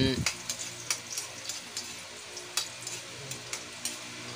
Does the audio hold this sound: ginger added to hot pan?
yes